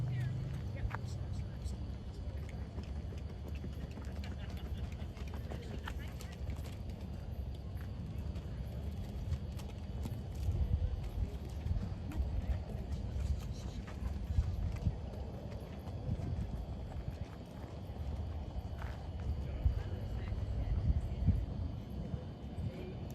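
A horse trots out on firm ground at a vet check after a 100-mile endurance ride, hooves clip-clopping faintly under a broad outdoor murmur, with people talking nearby.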